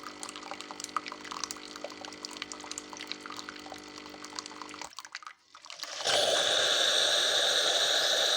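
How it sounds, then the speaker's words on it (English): A Tassimo coffee machine flushing hot water through its system during descaling, a steady pumping hiss and trickle that stops briefly, then resumes as a louder, constant gush of water. "See, that's hot water. So we're now flushing the system."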